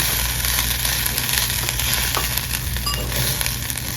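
Food sizzles loudly and steadily on a hot plate at a restaurant, a continuous hissing fry with faint crackles and no talking.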